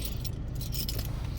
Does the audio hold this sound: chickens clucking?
no